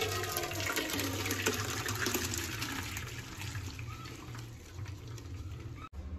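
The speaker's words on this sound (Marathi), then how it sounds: "भात आता गाळून घेऊया।" Water draining from partly cooked rice for chicken biryani as it is poured through a strainer, a steady close rush and gush of liquid that slowly fades, heard alone.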